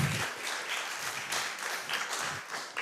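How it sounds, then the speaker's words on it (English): An audience at a national reading competition claps, making a dense, steady patter of many hands that swells and eases slightly over a few seconds. "Round of applause for her."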